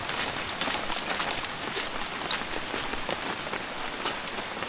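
Rain falls steadily onto surfaces in a Konkan village, a close, dense patter that holds at an even level throughout.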